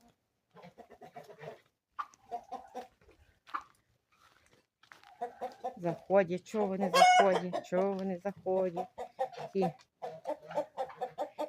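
A rooster and other farm fowl, including old ducks, in a yard at home, with clucking and a rooster crowing loudly in the middle, while someone talks in Ukrainian throughout.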